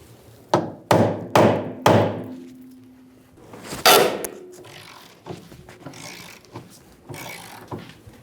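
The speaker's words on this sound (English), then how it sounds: "Using an 18mm socket, we're going to loosen the nut for the eccentric bolt." An 18mm socket and wrench work the nut on the eccentric bolt of a 2000-2007 Ford Focus rear lower control arm, giving several sharp metallic clanks and thunks in a quick series, then a louder knock followed by softer scattered taps.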